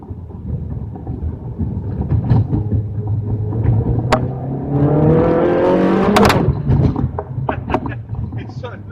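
A Ferrari 360 Challenge Stradale engine revs up while driving, rising in pitch through a gear, loud and close, with a sharp crackle at the peak, and someone talks over it.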